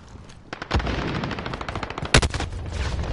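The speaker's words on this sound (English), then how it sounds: "I'm getting shot in the dumbest way possible" Rapid automatic gunfire from the video game Call of Duty: Modern Warfare, with sustained bursts of machine-gun fire broken by a couple of sharper, louder shots, close and dense throughout.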